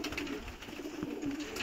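Madrasi pigeons coo faintly amid a steady hiss of background noise, a low, soft murmur heard alone with no talk.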